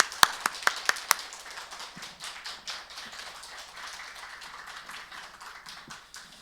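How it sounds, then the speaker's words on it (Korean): A church congregation at an early-morning family prayer service claps to welcome a visiting pastor, opening with a few loud, distinct near claps that melt into a softer, scattered round of applause fading slowly. "우리 사랑의 마음을 담아 목사님을 박수로 환영하겠습니다."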